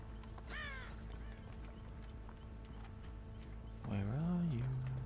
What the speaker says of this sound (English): No, that was a crow.